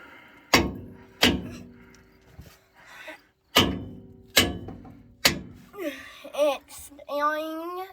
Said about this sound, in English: Take this hammer right here, and tap it in.